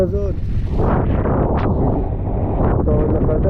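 Strong wind buffets the rider on a motorcycle trip through Slovakia on a dangerous road in worsening rain, a loud constant roaring rush with brief gusts, while someone speaks over it.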